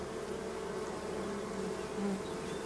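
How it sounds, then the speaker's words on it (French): A swarm of honeybees drones steadily around a small nucleus hive, a dense, continuous buzzing hum from many insects, close and even with no voices. "le temps que toutes les abeilles se regroupent"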